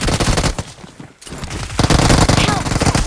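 Gunfire in the video game PUBG, a dense burst of rapid automatic shots, loud and close, with a short break before more firing, heard alongside a player's voice.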